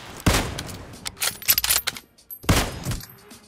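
A K9 gun fires in the mobile shooter BGMI in two sharp, loud bursts about two seconds apart, with smaller game sounds scattered between them.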